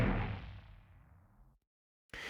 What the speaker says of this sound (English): And that's cool, but that's a whoosh